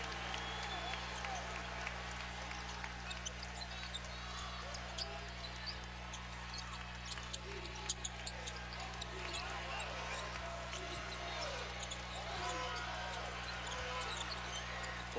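A basketball is dribbled in short, steady thumps on the court during the Tennessee vs Kentucky college game, under crowd noise and continuous play-by-play commentary.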